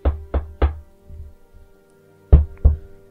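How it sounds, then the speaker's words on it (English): Knuckles rap on a door: a quick series of three sharp knocks, a pause with faint rustling, then two more firm knocks, close and clear with no talk. "Is that how you knock?"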